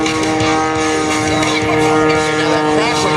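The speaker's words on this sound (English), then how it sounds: "Now that crackling sound you hear, that's the propeller jets going supersonic." A loud aerobatic propeller plane at an airshow drones steadily with a rough, crackling buzz from the propeller tips going supersonic and engine rumble, continuous throughout.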